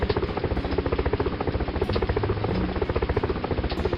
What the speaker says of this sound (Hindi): हेलीकॉप्टर आकर खाने के पैकेट फेंकती है।